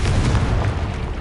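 A Confringo spell exploding in Hogwarts Legacy, a loud, deep, rumbling boom that stays heavy for about a second and then slowly fades, with no voices.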